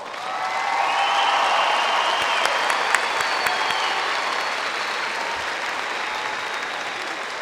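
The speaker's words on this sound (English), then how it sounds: "Please give them a round of applause." A high school graduation crowd applauds the class of 2019, loud dense clapping that swells early and holds steady, with a few sharper claps and cheers standing out.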